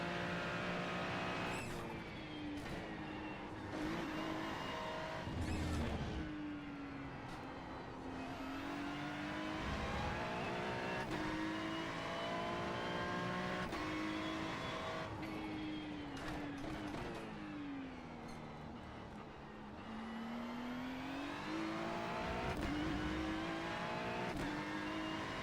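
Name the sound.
GT3 race car engine at Suzuka, racing video game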